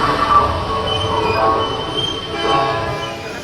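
A train passes close by with a steady rumbling roar, rattling wagons and a high metallic wheel squeal rising and falling over three and a half seconds, with no voices.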